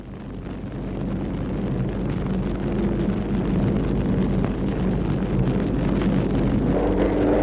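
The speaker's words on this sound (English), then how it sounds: "They are certain to launch aircraft to attack our marine units." Enemy Grumman aircraft approach in a naval battle scene, a loud, steady roar of droning engines and wind-like rush that slowly builds and holds throughout, with no voices.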